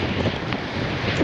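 Strong wind blows across a long open beach by the ocean, loud gusty roaring buffeting the microphone over rushing surf, with no voices heard.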